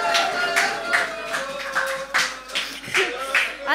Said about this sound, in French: Alors ça, c'est un tonnerre d'applaudissements.